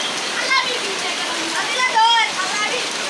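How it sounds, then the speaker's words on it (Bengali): Heavy rain pours onto a tarpaulin shelter in a steady, dense hiss that runs through the whole few seconds, with voices faintly audible beneath the downpour. "এমন বৃষ্টি আইছে, মানে তিরপালও কাম হইতেছে না।"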